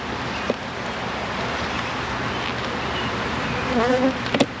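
Honey bees buzz steadily around an open hive during an inspection, a dense close drone with a few louder individual bees passing near the end.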